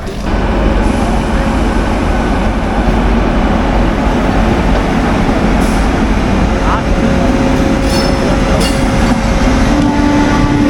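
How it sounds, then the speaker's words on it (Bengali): A Haldia local train running out of Howrah, its steady rumble filling the carriage with continuous loud low-end roar and faint rail clatter, with voices murmuring underneath throughout. "পাঁচটা পঁয়তাল্লিশের হলদিয়া লোকাল হাওড়া বারো নম্বর প্ল্যাটফর্ম থেকে ছেড়েছিল"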